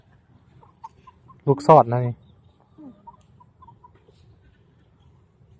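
Farm chickens cluck softly with a few scattered faint calls, while a person speaks briefly over them at close range.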